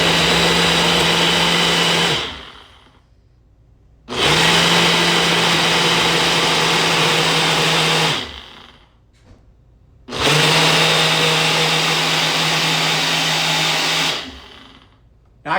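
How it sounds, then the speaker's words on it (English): A blender whirs loudly in three long bursts making a smoothie, each cut off by brief pauses, with its motor pitch steady while running. "you might not be able to hear me over the blender"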